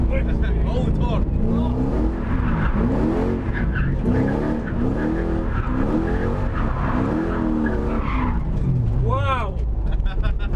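BMW E36 Touring fitted with a Toyota 3UZ V8 drifting, the engine revving hard in wavering bursts while tires squeal and skid throughout, loud and close, with people talking over it.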